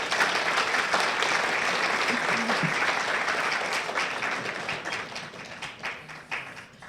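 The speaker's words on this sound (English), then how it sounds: "We'll give them all a round of applause." Sustained applause from the audience at a chamber of commerce annual meeting, steady and full for several seconds before thinning toward the end.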